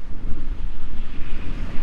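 Strong wind at sea while sailing in the Bahamas roars steadily into the microphone, a loud, gusty buffeting rumble with wave wash underneath and no talking.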